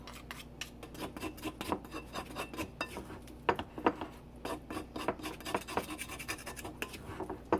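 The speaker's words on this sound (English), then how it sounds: "it's the best to scrape the side of the bowl with" Hard, stiff Cuisinart scraper rasping repeatedly against the side of a bowl of sourdough dough, a steady series of quick close scratching strokes.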